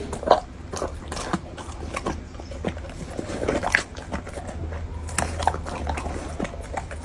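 A dog eats a large meal of duck wings, with repeated wet crunching bites and chewing in an irregular rhythm, close to the microphone and fairly loud, and no clear talking.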